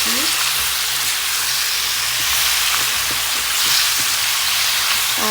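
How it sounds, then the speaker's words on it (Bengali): Fish frying in oil in a pan, a steady sizzle and hiss with faint crackles running continuously at moderate level, with a little low background rumble. "এই যে মাছ ভেজে রাখছি"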